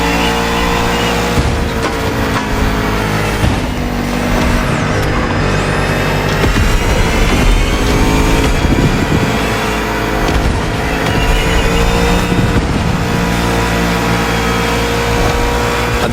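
Bugatti Vision GT engine in the racing game The Crew Motorfest, a loud continuous roar with rising and falling revs as the car drives, steady and close with no talk over it.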